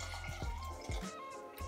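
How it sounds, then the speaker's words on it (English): Two cups of water go into a pan of beet tops or spinach for making organic egg dye, heard as faint, close splashing and dribbling with a few soft drips. "you're going to add 2 cups of water."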